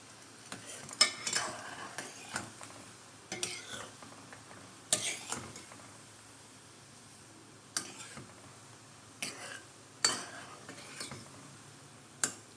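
Garlic and chili oil frying in a pan while a spoon stirs it: scattered scraping clinks of metal on the pan every second or two over a faint, steady sizzle, fairly quiet and without talk.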